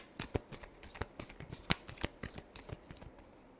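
Tarot cards riffled and shuffled by hand in a quick run of crisp, close papery flicks and slaps, with no voice over them.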